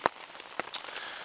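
Rain patters on a canvas tarp and log shelter at a solo overnight camp, heard as faint, scattered taps and drops over a soft, steady wash.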